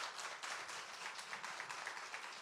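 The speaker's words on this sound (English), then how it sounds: "ask that you will come on and give Madison another round of applause for coming" Audience round of applause at a city financial address event, continuous dense clapping from many hands, even and sustained, heard alone at a moderate distance.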